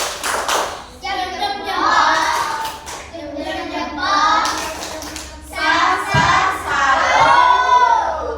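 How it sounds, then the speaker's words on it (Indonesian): Students clap their hands together in a classroom in bursts of rhythmic, fairly loud claps, with children's voices and speech mixed in between. "Tepuk tangan. Tepuk salut."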